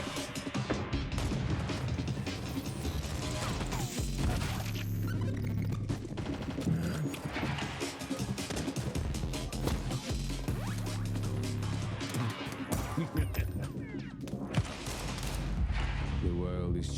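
Counter-Strike 2 gunfire in a professional match crackles in rapid bursts over a loud, busy mix of game sounds, with a caster talking over the action.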